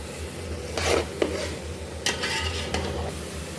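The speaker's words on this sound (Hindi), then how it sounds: "अब इसको हम इसमें ऐड कर लेंगे और इसको हम मिक्स करते जाएंगे" Spoon scraping and stirring gajar ka halwa, grated carrot pudding, in a pan on the stove with a low sizzle beneath. Several distinct scrapes break through a steady background hum, with no voices.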